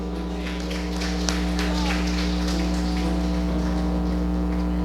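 A church congregation claps hands in praise, a dense, rhythmic patter of many palms layered over a steady low hum and sustained background tones.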